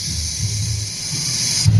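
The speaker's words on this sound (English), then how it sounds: "spray it with some WD-40" Steady hiss of WD-40 spraying from a can while working under a GMC S15 Jimmy during a gas line repair, close and continuous for nearly two seconds before cutting off.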